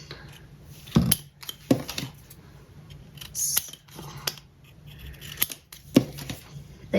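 Scissors repeatedly cut paper strips for a lapbook, a steady series of crisp close snips and paper rustles with brief pauses between cuts, no talking.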